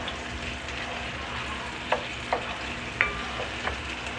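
Tomato paste and onions sautéing in a pan give off a steady low sizzle, with a few light spoon taps and scrapes breaking through, close and fairly quiet.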